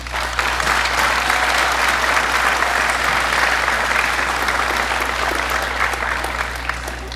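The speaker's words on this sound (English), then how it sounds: "Let's give them a big round of applause." Steady, full applause from a large crowd at an elementary school graduation ceremony fills the whole stretch, dense and even without letting up.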